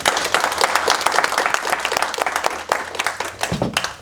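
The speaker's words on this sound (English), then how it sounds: "So give yourselves a round of applause" An office audience at a workplace wellness event applauds itself, a dense, loud and steady wash of many hands clapping that holds for about four seconds.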